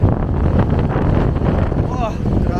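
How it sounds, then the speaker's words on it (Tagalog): Strong wind roars and buffets against the microphone in heavy gusts on a road in Infanta, Quezon, with a faint voice briefly near the end. "Grabe lakas ang hangin guys"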